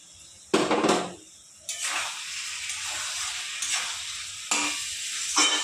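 Cumin powder, chili powder and Kashmiri chili powder fry in a pan while being stirred for a magur catfish dish, with sharp bursts of sizzling, a hissing background and stirring scrapes close by.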